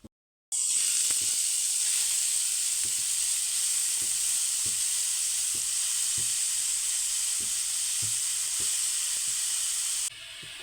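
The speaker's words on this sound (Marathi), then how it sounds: "आता ही गाजर आपल्याला छान असं तुपावरती मस्त असं रंग बदलेपर्यंत एकसारख्या रंगावरती परतून घ्यायचं आहे" Grated carrots fry in hot ghee in a pan for carrot halwa, a steady close sizzle and hiss with a regular series of soft spatula taps and scrapes, no talking.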